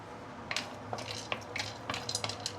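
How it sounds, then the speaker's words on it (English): Raw sugar heated in oil is stirred as it caramelizes, with light scraping and tapping of a utensil against the pan over a soft background hiss, close and fairly quiet. "Just keep on stirring until it becomes very thick brownie sugar syrup"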